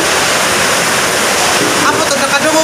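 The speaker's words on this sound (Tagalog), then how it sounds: "nakadungog ba mo ka ang uwan arang kusog" Heavy rain pours down in a dense, loud, continuous broadband roar, steady from start to finish, with a few faint splashy accents toward the end and a voice partly buried underneath.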